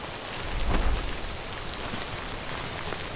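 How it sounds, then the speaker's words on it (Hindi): Steady rain falls in the video game Death Stranding, a dense, even hiss of drops on surfaces with a brief low rumble early on, continuing alone without speech. "चलो बारिश से तो बच गए।"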